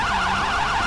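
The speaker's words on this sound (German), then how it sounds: "dann müsst ihr direkt hier mit lauten Sirenen weiterfahren" A police car siren in GTA 5 wails loudly and close, rising and falling quickly in a rapid repeating yelp pattern that runs throughout with no speech.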